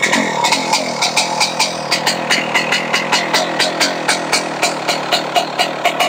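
A Husqvarna 125 WR two-stroke enduro motorcycle engine runs close by with a raspy, buzzing tone, pulsing in a steady rhythm as if idling with slight throttle.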